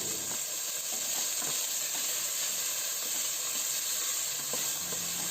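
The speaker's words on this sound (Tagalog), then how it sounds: "Ayan, gisahin lang natin yan." Sliced chayote and carrots sautéing in a hot pan for lomi, a constant loud sizzle and hiss with faint stirring scrapes, no voices.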